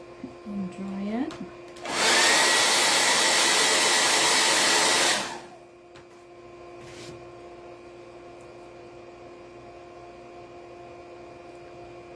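A hair dryer blows a loud, steady rush of air for about three seconds, drying a painted patriotic star craft for a fireplace mantel, then cuts off, leaving faint room hum and a short voice beforehand.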